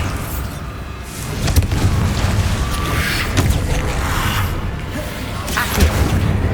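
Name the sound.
Bombarda spell explosion in Hogwarts Legacy video game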